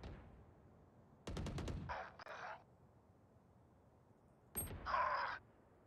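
Gunfire in the video game Valorant: a sharp, rapid burst of shots rings out, followed by shorter synthetic weapon and game effects, with quiet gaps between them.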